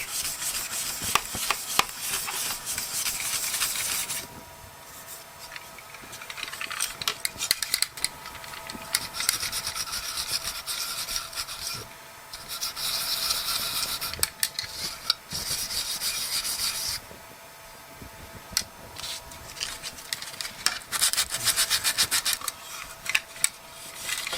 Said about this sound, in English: Now I'm going to use some Scotch-Brite and smooth my sanding marks out.